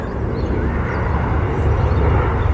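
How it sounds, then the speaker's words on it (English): A jet aircraft passes overhead at a golf driving range, a steady loud roar with a broadband rush that holds for the whole stretch with no clear beginning or end. "There's my jet coming in."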